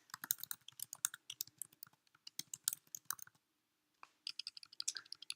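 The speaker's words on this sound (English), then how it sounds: "start typing out the quote I want to use" Quick, light keystrokes clatter on a computer keyboard as a quote is typed, bursts of crisp close clicks with a short pause midway.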